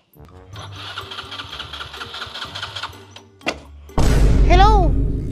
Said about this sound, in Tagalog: Ginamit ko yung motor mo, ay na umandar!